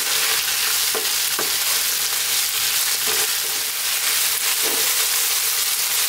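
Green beans fry in a pan over fairly lively heat, giving a loud, continuous close sizzle with a few soft stirring knocks and scrapes and no talk.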